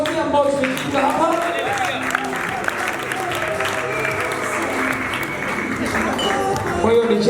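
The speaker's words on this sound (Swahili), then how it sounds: "Tunaweza tukajipigia makofi kwanza kwa jumla sote ambao tumefika hapa." Wedding guests applauding together, a broad wash of clapping from a crowd in a hall, heard under a speaker's amplified voice and background music.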